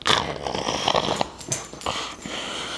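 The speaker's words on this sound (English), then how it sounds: "The dogs are playing." Two dogs play together, growling, huffing and wheezing up close, with scuffling and a few whimpers mixed into the rough play.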